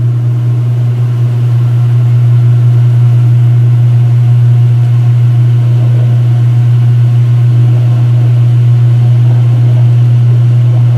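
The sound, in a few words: washing machine motor running a low-speed spin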